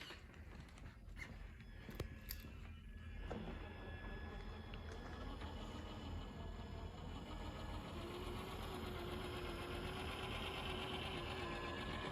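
Traxxas TRX-6 6x6 Ultimate RC hauler fitted with a Vortec, its electric motor running as a steady, fairly quiet whirring drone with a rising whine toward the end, a few clicks near the start.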